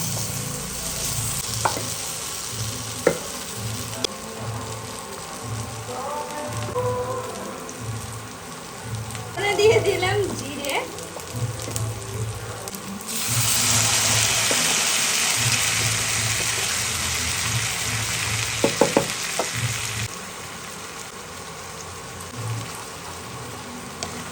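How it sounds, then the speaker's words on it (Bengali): Potatoes and pointed gourd fry in a pan with a steady hissing sizzle, broken by occasional scrapes and clatters of stirring, close and continuous. "এদিকে আলু আর পটলগুলোও কিন্তু প্রায় ভাজা হয়ে গেছে"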